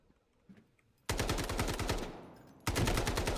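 Two rapid bursts of automatic gunfire from a weapon in the Delta Force video game crack out close and loud after a quiet moment, the second burst following a brief pause, with no voices.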